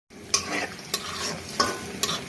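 Rohu fish frying in a pan, a close crackling sizzle punctuated by four sharp spatula scrapes and clinks at a loose steady pace, no voices.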